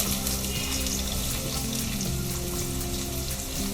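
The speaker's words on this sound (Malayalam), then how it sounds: "അതിലേക്ക് നമുക്ക് അരിഞ്ഞ് വെച്ചേക്കുന്ന സവാള ചേർക്കും" Chopped onions hit hot oil in a pan while cooking Kerala kadala curry, giving a steady, dense frying hiss that stays loud and even throughout with no voices.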